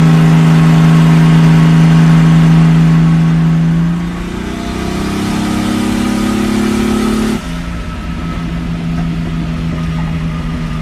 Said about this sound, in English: Now we head for the 25-mile drive home.